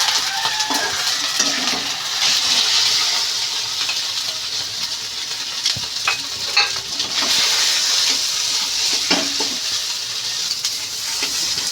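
Mashed potato and chopped egg frying in a pan with ginger paste for a quick evening snack, a steady close sizzle with scattered scraping and stirring knocks throughout.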